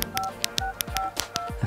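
Quick sequence of electronic dialing tones with short beeps and soft taps, as a number is keyed in to call a very small phone; close and fairly quiet with no talking.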